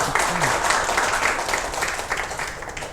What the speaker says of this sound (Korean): 우리 아버지 어머니들 위해서 다 같이 박수 한번 칠까요?